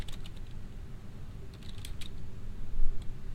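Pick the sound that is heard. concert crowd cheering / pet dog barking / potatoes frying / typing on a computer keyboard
typing on a computer keyboard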